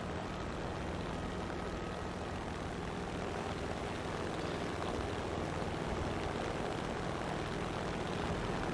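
Aircraft engines drone steadily as planes take off from a warship in World of Warships, a faint, continuous propeller-like hum with no breaks.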